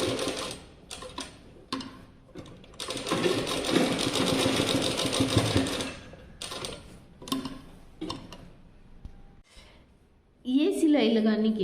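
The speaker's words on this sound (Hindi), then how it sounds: "कॉर्नर निकालने के बाद यहाँ पे हमें अच्छे से सिलाई लगानी है" A sewing machine stitches a seam on a shirt for a young girl, running in several bursts of steady mechanical whirring, one long stretch in the middle, with short pauses and handling between runs and a voice speaking near the end.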